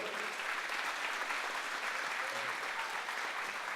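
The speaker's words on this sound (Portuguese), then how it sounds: "Dê um forte aplauso ao Senhor" Church congregation applauding during a sermon, a continuous, dense wash of clapping that holds at an even level throughout.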